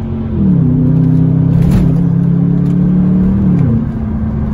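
A BMW 645ci in sport mode revs hard under manual gear shifts, the engine note climbing steadily, dipping briefly at a shift and climbing again, loud and close from inside the car.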